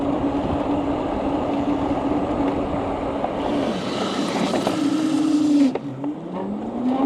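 A Segway Ninebot GoKart Pro 2 slides through a corner, its electric motor whining steadily at close range before the pitch drops sharply, then climbs again as it powers out.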